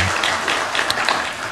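A church congregation claps together during a Sunday service, a dense burst of many hands that builds up and then gradually thins out, with no talking over it.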